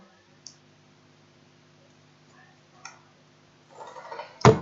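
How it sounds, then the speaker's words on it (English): Computer mouse clicks on a run button at a desk: two faint, widely spaced single clicks, then a louder rustle and a sharp closing click, alone in a quiet room with low electrical hum. "and keep clicking run."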